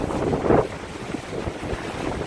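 Hurricane Irma gusts of around 80 mph roar and buffet against the microphone in a continuous rushing blast with surging peaks, loud and close.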